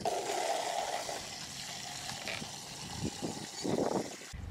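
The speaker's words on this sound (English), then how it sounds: "I am dumping out their water bins and refilling it with fresh water" Water is dumped out of livestock water bins and refilled with fresh water, with splashing and gushing pours in bursts, strongest near the end, then an abrupt stop.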